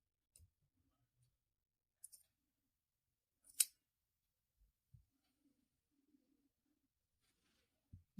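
Scissors snip through crochet yarn in a quiet room: a few sharp, isolated metallic clicks and cuts spaced out over several seconds, close and otherwise silent.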